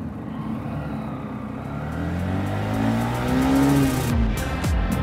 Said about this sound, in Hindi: अभी हम लोग इसका थोड़ा सा परफॉर्मेंस टेस्ट करेंगे कि मतलब एक नंबर गियर में गाड़ी कैसे चलती है